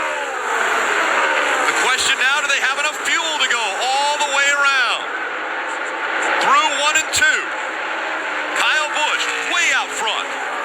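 NASCAR stock cars roar past the grandstands at the Indianapolis oval, engines rising and falling in several loud sweeping pass-bys over a steady crowd and track din, with a commentator talking over them.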